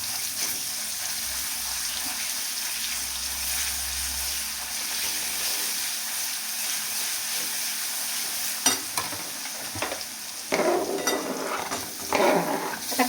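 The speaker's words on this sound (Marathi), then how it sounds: "आता कांदा आहे ना तो आपल्याला छान ब्राऊन कलरचा तुमच्याकडे परतून घ्यायचा आहे." Onion frying in a pan for bitter gourd masala gives a continuous soft sizzle with occasional stirring scrapes and clatter, close by, growing busier and louder toward the end.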